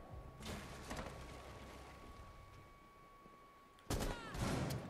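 Rapid gunfire bursts in the video game Rainbow Six Siege, a loud volley at the start and another sharp burst near the end, with a faint steady tone between.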